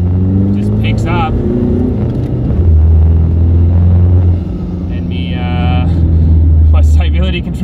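A car with a throttle controller pulling hard in second gear with wheelspin, a loud, close, steady engine drone and rumble rising in pitch, with someone talking over it.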